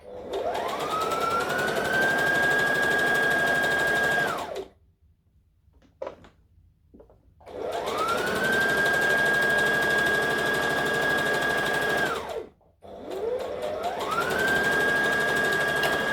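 A sewing machine stitches Halloween costume fabric in two long, loud, steady whirring runs split by a short pause, then starts a third run; no one talks.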